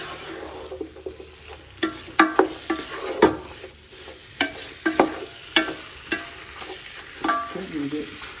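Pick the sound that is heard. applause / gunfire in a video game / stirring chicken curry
stirring chicken curry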